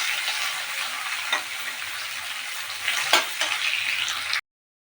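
Onions frying in hot oil with chillies in a pan, a continuous close sizzle with a few sharp spatters and stirring clicks, cutting off abruptly near the end.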